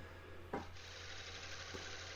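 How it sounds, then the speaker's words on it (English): A half-inch 55-degree swept-back bowl gouge makes a scraping cut on a mulberry crotch bowl spinning on a lathe, giving a steady soft rasping hiss over the lathe's constant hum, with a faint tap near the start. "I'm going to use a scraping cut with my 1/2" 55-degree bevel swept back bowl gouge, and I'm just going to push into the material"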